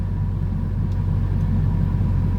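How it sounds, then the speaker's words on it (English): Steady low rumble and hum of the AC blower fan in a Chevrolet Corvette C5, running continuously and fairly loud with no change over the short stretch. "The blower is working."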